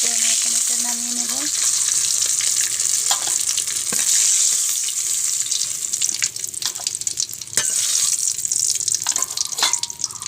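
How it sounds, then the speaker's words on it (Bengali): Shrimp fry in hot oil in a village kitchen, giving a steady, close crackling sizzle throughout. A few clinks and small splashes from stirring sit on top of it. "আমার চিংড়ি মাছটা ভাজা হয়ে গিয়েছে"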